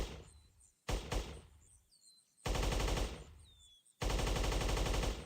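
Automatic gunfire in the video game Guncraft comes in loud sustained bursts separated by short pauses, with faint chirping tones between them.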